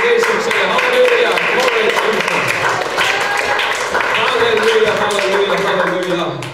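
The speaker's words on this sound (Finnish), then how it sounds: "annetaan aplodit Jeesukselle" A church congregation applauds Jesus together at a Finnish revival meeting, a dense, steady wash of clapping that holds loud for several seconds with voices and music mixed underneath.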